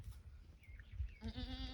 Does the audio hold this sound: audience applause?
no